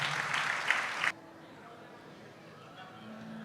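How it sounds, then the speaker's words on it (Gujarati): Audience clapping at a Gujarati Lok Dayro folk music show, a brief loud burst of applause for about a second that cuts off abruptly, leaving a quiet room with faint murmur. "જોરદાર તાળીના ગળાથી એમને વધાવો"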